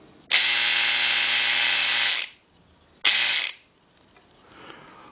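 A Philips QC5005 hair clipper with self-sharpening blades runs with a loud, steady high-pitched buzz for nearly two seconds, stops, then gives a second short burst, close up with no talking.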